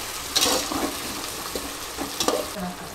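Tomatoes dropped into a hot pan for pulao, sizzling and frying, with a couple of sharp stirring scrapes and bursts of spitting oil over a quiet steady crackle.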